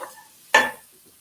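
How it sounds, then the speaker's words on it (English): A sudden sharp sizzle bursts up, like oil hitting a hot pan, then hisses and fades over a fraction of a second. "So you can hear the sizzling"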